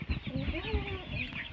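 Chickens in a farm pen holding about a hundred birds, clucking and calling repeatedly at close range with a busy, overlapping flock chatter and a few low thumps.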